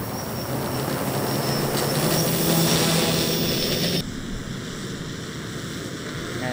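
Pixhawk-based delivery drone flying, a loud steady whirring roar that drops off abruptly partway through and then continues at a quieter level.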